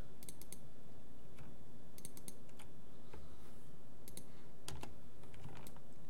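Computer keyboard keys clatter in quick clustered bursts with short pauses between, close and steady, while modeling work goes on in Maya 2018.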